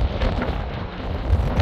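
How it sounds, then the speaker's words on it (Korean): Strong wind buffeting the microphone at an open desert rock viewpoint in Sedona country, a steady low roar with gusty surges and no voices. "바람소리"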